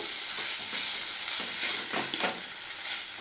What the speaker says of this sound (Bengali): তো নারকেলটা আমি একটু ভাজা ভাজা করে নেব